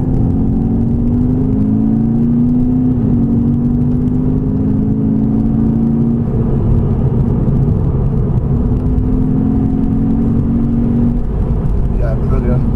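A remapped 175 BHP VW Scirocco 2.0 TDI diesel engine revs steadily with a rising, droning whir and a low rumble throughout, loud and close.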